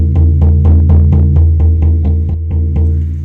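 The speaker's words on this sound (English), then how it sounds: "So the repetitive percussion sounds like this." A steady, repetitive drum pattern of evenly spaced hits over a deep, droning low tone, loud and close.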